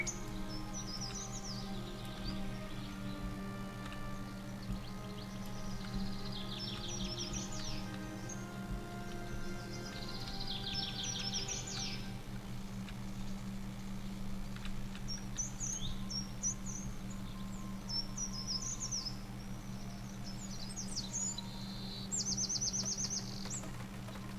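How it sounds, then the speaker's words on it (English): Birdsong in the Viking village-building game Land of the Vikings, scattered chirps and short trilling calls over a steady low droning ambience, fairly quiet and with no talk. "Birds are quite loud."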